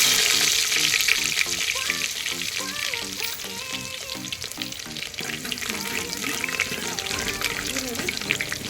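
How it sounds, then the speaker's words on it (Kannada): Onions sizzle steadily in hot oil with popping mustard seeds for a village-style horse gram curry, a continuous close frying crackle under a faint background tone and a voice speaking over it. "ಈರುಳ್ಳಿ ಬ್ರೌನ್ ಕಲರ್ ಆಗಿ ಫ್ರೈ ಮಾಡಬೇಕು."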